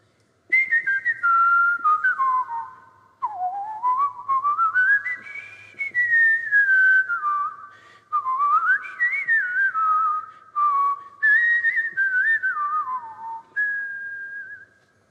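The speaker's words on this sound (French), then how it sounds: "Je peux improviser un truc." A musician whistles an improvised melody in the church of Saint-Julien-le-Pauvre, clear and close, with gliding, bending phrases broken by short pauses and no voices.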